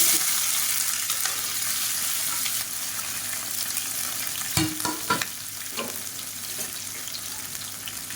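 Long sliced onions frying in hot oil inside a pressure cooker, a steady close sizzle with occasional stirring scrapes and clatter, no voices.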